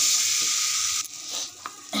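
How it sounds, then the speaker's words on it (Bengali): Ground spices with salt and turmeric fry in a hot pan, giving a loud, close hiss and sizzle that falls off about halfway through, then returns in short bursts. "এটা ভালো করে মশলাটা কষিয়ে নেব"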